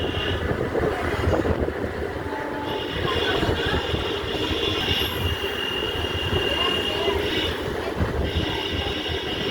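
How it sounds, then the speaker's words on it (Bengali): A passenger train runs on the line from Krishnanagar to Amghata Halt, heard from inside as a steady rumble and rattle of wheels on rails with occasional high squeals, no voices. "আমাদের ট্রেনও যাচ্ছে তার সঙ্গে"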